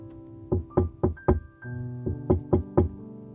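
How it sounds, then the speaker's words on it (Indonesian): Knuckles rap on an office door in two quick sets of sharp knocks, about four each, separated by a brief pause; close and distinct. "mengetuk pintu sebelum masuk."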